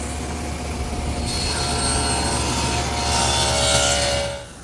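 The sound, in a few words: table saw cutting a rabbet in wood stock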